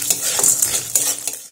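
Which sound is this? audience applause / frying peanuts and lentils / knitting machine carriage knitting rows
frying peanuts and lentils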